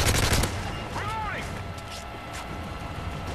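Gunfire from a weapon in the video game Modern Warfare 3 Survival on the Underground map, with a quick burst of loud shots up front followed by a short whistling sweep and lingering rumble.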